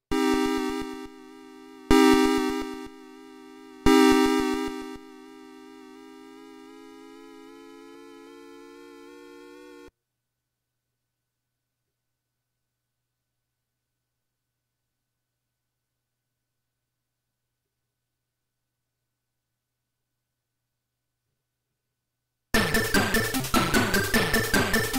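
Victory ceremony music from the 1988 racing game WEC Le Mans 24, with three short loud bursts of an eerie, sustained harmonic tone, a steady held note, then a long silence before a harsh noisy burst at the end.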